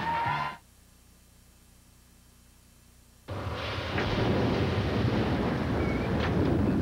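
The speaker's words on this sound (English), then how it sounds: "It seemed like the rain would never stop." Thunder and rain as a sound effect in a television commercial: a brief rumble, a short near-silence, then a loud, steady broadband wash of rain with crackling thunder building behind it, no voices.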